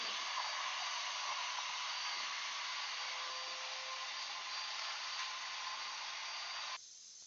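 A shop vacuum draws through a dust cyclone separator with a steady, bright whooshing roar that runs unbroken, with faint rattles of debris, before dropping in pitch and level near the end.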